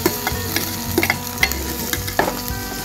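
Capsicum and green chilies frying in oil with cumin and turmeric, a close, steady sizzle broken by several scraping stirs of a utensil in the pan, with no voices.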